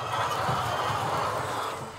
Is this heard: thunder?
no